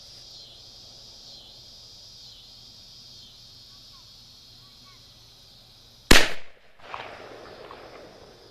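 A single loud shot from a .50 caliber Lyman Plains Pistol, a black powder gun, fired at hedge apples outdoors, rising sharply over steady insect chirring and followed by a brief rumbling echo.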